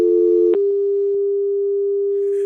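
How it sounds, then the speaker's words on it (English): A steady electronic phone-line tone holds after a call cuts off, loud and continuous, with a brief click at the start and faint hiss near the end. "The phone just cut off."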